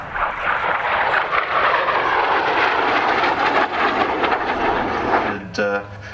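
A CAC CA-27 Mk32 Avon Sabre jet flies at the Wings Over Illawarra 2019 airshow near Sydney, its loud, steady roar continuing throughout while a commentator speaks underneath.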